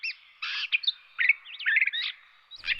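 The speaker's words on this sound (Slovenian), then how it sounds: "tako lepo poješ, ptička" A small bird sings and chirps in a puppet theatre play, a run of bright, quick tweets and trills close by with brief pauses between phrases.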